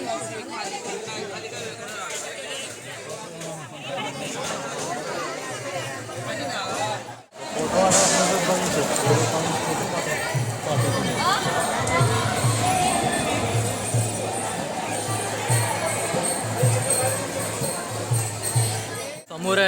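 Dense crowd chatter at the crowded Balumama temple in Adamapur during a Shravan visit, with many voices blending into a steady loud hubbub that drops out briefly around seven seconds, then resumes even fuller.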